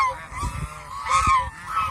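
Domestic geese kept for raising goslings honk loudly and close by, several harsh, nasal calls overlapping in quick bursts across about two seconds.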